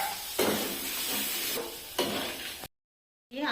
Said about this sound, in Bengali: শুধু মশলা ভাজা হচ্ছে